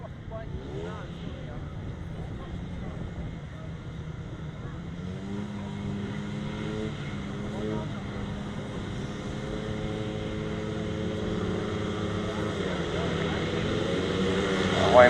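Racing solo 350cc motorcycles on a grasstrack, a steady layered engine drone with rising and falling pitch sweeps as bikes pass, swelling louder toward the end, with a voice talking over it.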